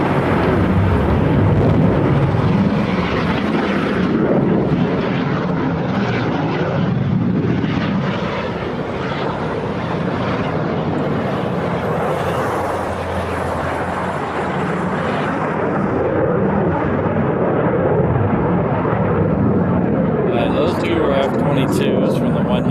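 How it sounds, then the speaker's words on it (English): Two F-22 fighter jets of the 199th Fighter Squadron fly past at Hickam in Hawaii, a loud, sustained broadband roar that holds steady for over twenty seconds before easing slightly near the end. "So those last 2 were F-22s."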